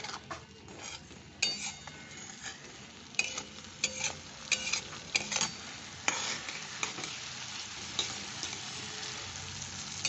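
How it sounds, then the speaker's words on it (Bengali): Spice paste sizzling in a pan for a prawn fritter curry, a steady soft frying hiss broken by repeated scrapes and clinks of a spoon stirring against the metal, close and alone without talk. "দিয়ে আমি কষছি"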